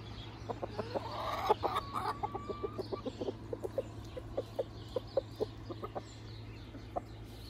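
A rooster makes a steady run of short, rhythmic clucks outdoors, calling hens over to food, with soft bird chatter and a constant low hum behind.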